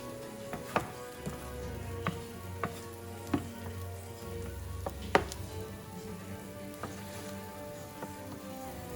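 Sauce with meat simmering in a pan, a soft continuous bubbling sizzle with low rumble, punctuated by several faint clicks and knocks of a utensil at irregular intervals.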